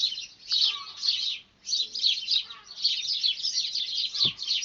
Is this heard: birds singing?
yes